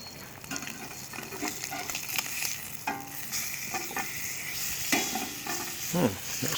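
Pork chops fry in a cast iron pan over a campfire with a crackling sizzle. Intermittent scraping and stirring clatter from turning the meat cuts through it, and no one speaks.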